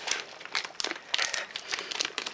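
Crinkling foil wrapper of a Pokemon Red Collection booster pack being handled and opened, close and loud, in rapid irregular bursts of crackling with no talk.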